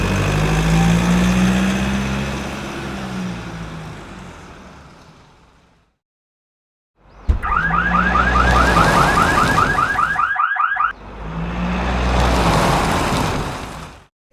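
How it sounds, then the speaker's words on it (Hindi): A loud electronic buzzer on a homemade alcohol-sensor safety vehicle science project, sounding in a steady pulsing burst for about three seconds between stretches of a running motor, with no talk. "जो बोजर है ये ऑन हो गया"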